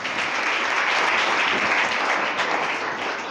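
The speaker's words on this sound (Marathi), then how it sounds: "जोरात टाळ्या झाल्या पाहिजे." Loud, sustained applause from an audience at a science club event celebrating Albert Einstein's birthday, a dense wash of clapping hands filling the room without a break.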